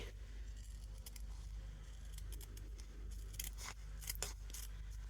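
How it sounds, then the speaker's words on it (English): Scissors snip through an appliqué template for a Christmas quilt, with a series of short, crisp cutting clicks clustered in the second half over a low background hum. "you then cut right up to the line"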